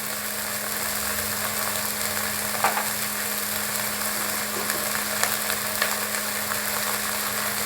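Spice masala with turmeric and salt sizzling in a pan for Bengali chingri posto, a steady soft frying hiss with occasional faint stirring scrapes, no talk.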